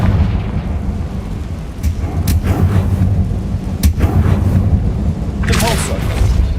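A Confringo spell blasts in the video game Hogwarts Legacy, with heavy rumbling detonations and sharp cracks over a steady low roar, loud and close, plus a brief voice-like burst near the end.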